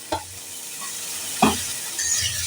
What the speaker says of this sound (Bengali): হলুদ দিয়ে এবার এটাকে নাড়াচাড়া করব।